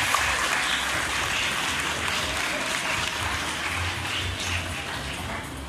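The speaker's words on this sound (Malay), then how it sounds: "Tepuk tangan untuk MMTB." An audience applauds a school team at a student Islamic knowledge festival awards announcement, a broad, even patter of many hands clapping, moderately distant and sustained for several seconds without talk.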